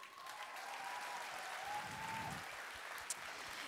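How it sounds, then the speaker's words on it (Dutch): Applause for the Miss Nederland finalists fills a large hall with steady, dense clapping, a faint tonal murmur running underneath. "Mag ik nog één applaus voor deze finalisten?"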